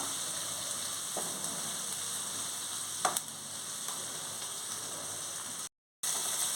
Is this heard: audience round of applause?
no